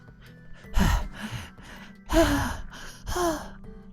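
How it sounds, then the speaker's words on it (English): Heavy breathing after running, a few loud ragged gasps and breathy exhales in uneven bursts, close and unaccompanied. "I'm panting like crazy."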